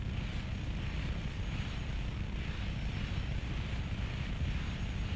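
A jet aircraft in the video game Just Cause 3 roars as a steady, broad, fairly faint rushing drone that never lets up.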